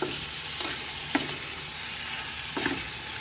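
Tibs, meat with onions, frying in a pan: a continuous soft sizzle with occasional scraping stirs, close and fairly quiet, with no talking.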